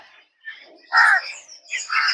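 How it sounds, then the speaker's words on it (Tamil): A crow caws harshly a couple of times, close by in a mango grove, with faint murmuring in the background. "அங்கே காக்கா தான் கற்றுது"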